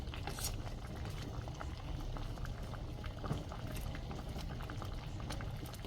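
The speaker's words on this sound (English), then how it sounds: "I'm gonna put it on low and let it boil." A pot of sorrel and lemongrass drink bubbles at a steady, close boil, a dense continuous simmering patter with small pops and no talk.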